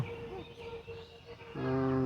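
A cow lows in a green field, a close, drawn-out moo swelling at the end after quieter, faint lowing earlier, heard on its own with no talk.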